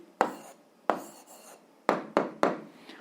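A pen or pencil scratches out an answer on paper in a handful of short, distinct strokes, close and crisp, separated by brief pauses, with no talking.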